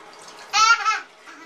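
A child in a bathtub makes a brief burst of splashing and babbling, close and loud for about half a second between quieter moments.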